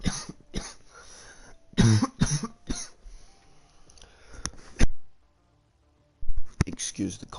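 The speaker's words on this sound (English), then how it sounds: "Excuse the cough." Several sharp coughs and throat-clearing bursts come through close to the microphone, in scattered clusters with gaps between them, during commentary on a Hungary race.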